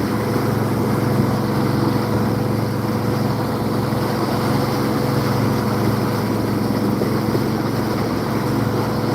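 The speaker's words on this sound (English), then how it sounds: "Oh, it's a big Detroit diesel in there." A big eight-cylinder Detroit diesel engine drones aboard a fishing boat, a loud, steady, unbroken rumble that holds an even level with no talk over it.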